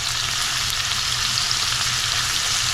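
Steaks searing in a hot pan with garlic butter, a loud, steady close-up sizzle and crackle of frying fat with no talking.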